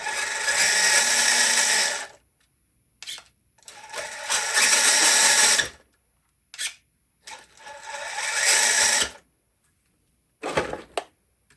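An Axial SCX10 II RC crawler fitted with a two-speed transmission, driven in crawl mode, whines in four loud bursts of motor and gear noise separated by short pauses, with no talking.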